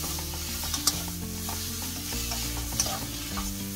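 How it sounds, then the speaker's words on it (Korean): Blanched fleabane greens are stir-fried with scallion and garlic in a pan, a steady loud sizzle under repeated scraping stir strokes and a couple of clacks, with no talking. "데쳐진 거기 때문에 파하고 마늘이 익을 정도로만 볶아주시고"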